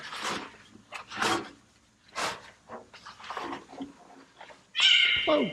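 A cat stepped on during 1967 Shelby GT500 restoration work lets out a sudden loud, sharp yowl near the end, following several softer murmuring sounds.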